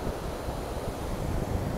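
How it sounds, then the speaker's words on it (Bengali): Ocean surf at Puri beach, a steady broad wash of breaking waves with wind rumbling across the microphone, continuous and fairly close with no voices. "দেখো এখানে ঢেউটা দেখো কত সুন্দর সুন্দর ঢেউ আসছে"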